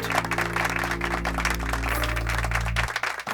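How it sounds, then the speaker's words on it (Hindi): A gathering in a hospital applauds a doctor: steady, dense clapping from many hands runs throughout at moderate volume over a low hum, then cuts off near the end. "Please give her a big hand."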